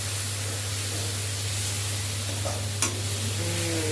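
Steady sizzling of food frying in a pan, with a brief scrape of a spoon stirring near the end; no one speaks.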